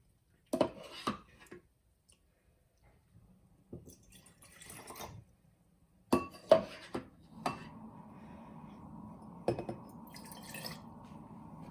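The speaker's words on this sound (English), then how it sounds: "I'm gonna take a cup and I'm gonna evenly distribute the cabbage juice to all 3 jars I have here" Red cabbage juice scooped with a cup and poured into three glass jars: sparse clinks of glass and cup, trickling and dripping liquid, then a steadier pour near the end, all quiet and close.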